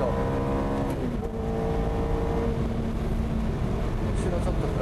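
A Ferrari F430 race car engine accelerates, its steady tonal whine climbing and holding under continuous road and wind noise. Someone talks over it throughout.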